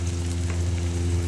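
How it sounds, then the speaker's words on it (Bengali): Onion, ginger and garlic paste frying in a pan, a soft continuous sizzle with a low steady hum underneath, heard close and fairly quiet with no voices. "ভালো করে আমি নাড়াচাড়া করে ভেজে নিব।"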